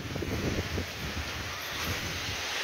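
Strong wind blows across an open village yard, a steady broadband rush with gusty buffeting on the microphone, strongest at the start and holding at a constant roar, with no talk.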